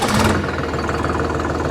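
A Sonalika DI-42 RX tractor with a 45 HP engine, started with a key, settles into a steady close, loud diesel idle after a brief louder burst at the start, with no talk.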